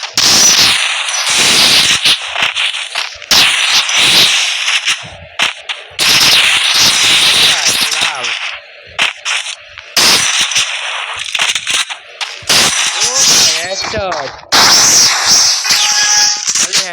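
Gunfire in a 1v1 custom match of a shooting video game: loud, sharp bursts of rapid automatic fire and single shots, broken by short gaps, with no voices over them.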